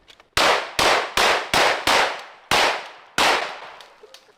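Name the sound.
gunshot fired into the ground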